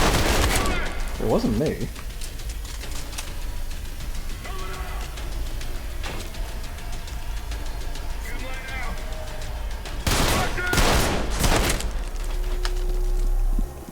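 Gunfire in the video game BANG BANG, with bursts of shots breaking out near the end over a constant game soundscape, while a player talks briefly early on.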